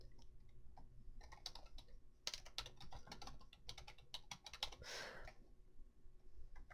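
Fingers tap out a forum name on a computer keyboard in an irregular run of close, quiet keystrokes with short pauses, no voice over them.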